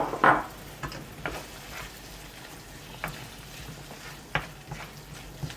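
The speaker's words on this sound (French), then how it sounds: "On mélange bien." Couscous mesfouf semolina being stirred in a bowl gives soft grainy scraping and rustling, with a few sharper knocks spaced through the stirring.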